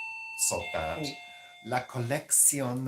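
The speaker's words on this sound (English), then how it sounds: "that was the doorbell" A home doorbell chimes twice between bursts of nearby conversation, bright ringing tones standing out over and beside the voices.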